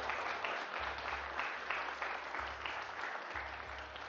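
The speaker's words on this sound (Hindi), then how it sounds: "पाकिस्तान के लिए तालियां।" A television studio audience applauds Pakistan's championship win over India during a Ramazan transmission, a faint, continuous patter of clapping with a low hum underneath and no talk.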